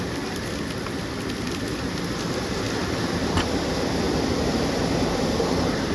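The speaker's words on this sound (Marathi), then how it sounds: "पाऊस कंटिन्यू चालू आहे बघा आमच्यात" Steady rain falls throughout, a dense even hiss of drops on surfaces with no break.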